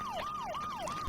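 A fire engine siren wails in a steady repeating rise-and-fall cycle, clear and continuous over a background hum, with no talking.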